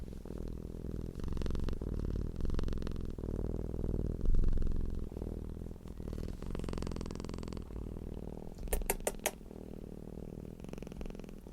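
Cat purring with a deep, steady humming rumble, close and continuous, briefly joined by a few light clicks and rustles near the end.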